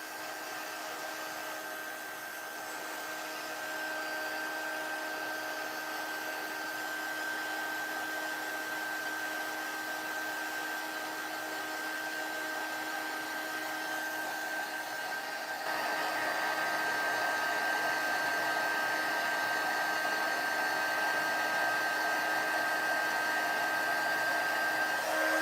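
A hair dryer blows steadily to warm a doll on a cold day in Cincinnati, a continuous close whooshing hum with a faint whine that grows slightly louder partway through, with no talking.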